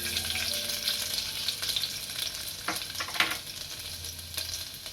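Garlic sizzling steadily in hot oil in a pan while making tomato soup, a continuous close frying hiss with a few brief stirring clicks, no voices.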